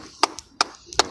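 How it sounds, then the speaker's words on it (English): A few people clap for a kid at Pickwick in Burbank, giving three or four sharp, close, separate claps in a quiet room. "Clap for Ruben."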